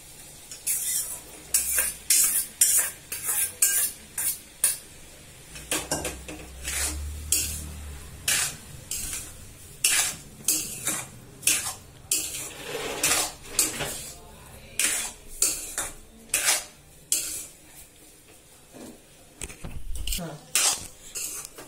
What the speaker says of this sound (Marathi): या पद्धतीनं सगळं व्यवस्थित फ्राय करायचं।